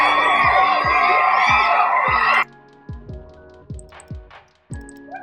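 A cheering crowd effect for a children's book plays loudly for a couple of seconds, then cuts off abruptly, leaving a few faint clicks and short sounds behind.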